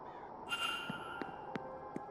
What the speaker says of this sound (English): Another crow?